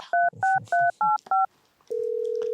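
Telephone keypad tones from a camera used as a phone: five quick, evenly spaced dialing beeps, then a short pause and a steady, unbroken tone.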